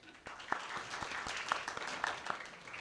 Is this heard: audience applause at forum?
yes